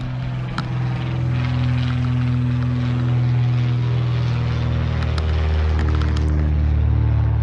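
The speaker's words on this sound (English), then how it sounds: "here comes another plane." Propeller airplane passing overhead in a residential area, a loud steady engine drone with a low hum that holds throughout, near and continuous with no talk.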